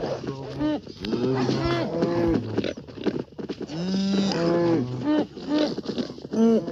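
Cows moo repeatedly in the video game Minecraft, loud drawn-out lowing calls overlapping one another in close succession throughout.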